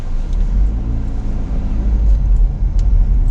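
A car driving along a road near Lake Martin, a steady, close engine and tyre rumble that holds level throughout with no talking.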